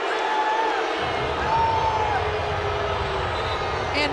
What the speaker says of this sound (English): this crowd is hot